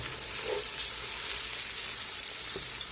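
Onions frying in oil with cardamom and bay leaves for chicken biryani, a steady, close sizzle throughout the short stretch with a faint soft clink near the end.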